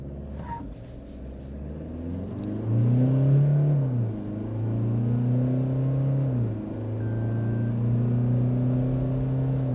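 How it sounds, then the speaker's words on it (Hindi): A Toyota Fortuner hybrid SUV, 2026 model, accelerating in sport mode with its engine note climbing and dipping through rising revs, a steady close droning roar under light road rumble. "स्पोर्ट्स मोड, एक्सेलरेट करूँगा, ज़्यादा नहीं करूँगा वरना पीछे वाले टायर जो है वो स्पिन करने लग जाएंगे।"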